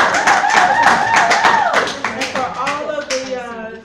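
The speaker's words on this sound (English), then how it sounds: "let's give a big round of applause for you all for coming out on this chilly night." An audience applauds at a live performance event on a chilly night. Dense clapping is heard under a voice with a tonal, sung or cheering quality, fading toward the end.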